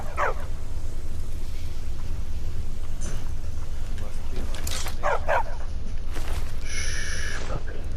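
A dog in the video game Skyrim barks and yips in a few sharp, scattered bursts over a steady, noisy game background.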